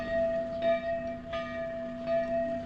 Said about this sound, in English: I guess they've got a bell tower there that they signal every hour, because it is now 9 o'clock.